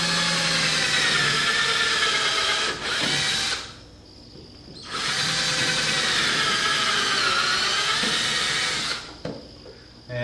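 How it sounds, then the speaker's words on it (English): A power drill bores pilot holes for the screws of a Liftmaster garage door opener bracket, whirring in two long, steady bursts separated by a short quiet pause, close and loud with no talking. "I'm just going to put a couple pilot holes for the screws that are going to hold that bracket into place"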